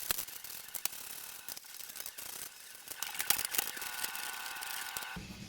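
Ratchet wrench clicking as 10mm bolts come off the hood latch of a 2004-2006 Scion xA, with rapid bursts of pawl clicks and a few sharper knocks, close and moderately loud with no talk.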